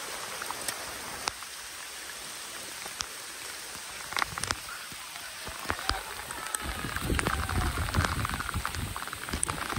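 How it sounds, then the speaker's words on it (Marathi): Monsoon rain pours on a fort trek near Karjat, a steady patter and splash of drops that swells louder toward the end, with scattered sharp knocks and faint voices. "मस्त असा पाऊस आला खतरनाक."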